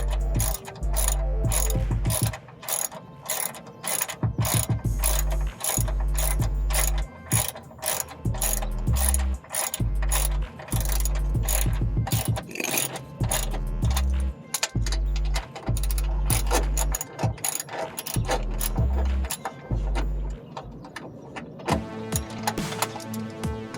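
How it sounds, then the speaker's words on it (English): Socket wrench ratcheting bolts tighter on an Audi TT 225, rapid loud clicking bursts repeated close up, with short pauses between strokes. "take a socket wrench and get these just a little bit tighter so that they're ready to be torqued down"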